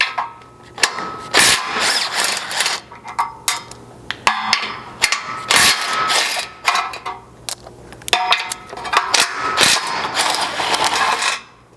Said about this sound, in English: you can grab a 15mm socket and remove the 3 bolts in here per side to remove this crash bar